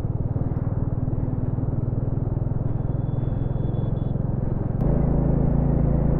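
Royal Enfield Classic 350 (2021 model) riding along a road, its single-cylinder engine thumping in a steady, loud, continuous rumble with wind noise, the engine note shifting slightly near the end; no talking.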